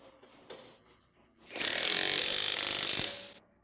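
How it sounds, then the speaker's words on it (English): A ratchet with a 19mm deep socket tightens a lug nut on a 2013-2020 Ford Fusion wheel: a few faint clicks, then a loud, close, rapid continuous ratcheting burst lasting about a second and a half before it stops. "Use a 19mm deep socket to tighten."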